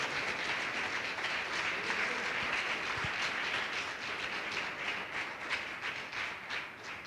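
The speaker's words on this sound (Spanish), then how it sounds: "¿Cuánto le dan un fuerte aplauso a Dios por el amor que Él tiene para con nosotros?" A church congregation at a Friday sermon gives sustained applause, a steady wash of clapping heard from a distance and fairly faint, with no speech.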